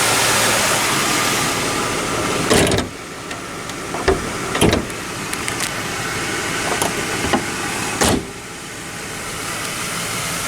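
A Jaguar S-Type engine runs with the hood nearby: a loud, steady mechanical hum continues throughout, interrupted by a few sharp knocks and thuds.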